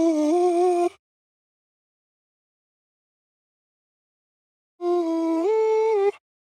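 A reversed, chopped, pitched-down melody sample built in FL Studio for a dark Afrobeats track plays as two short tonal phrases with gliding pitch, separated by about four seconds of silence.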